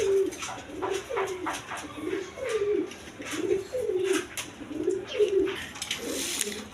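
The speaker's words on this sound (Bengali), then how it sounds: "এখানে এক পেয়ার বোম্বাই কবুতর আছে দেখেন ইন্ডিয়ান বোম্বাই কবুতর" A pair of Indian Bombay pigeons coo in a steady run of soft, repeated low calls, close by and alone.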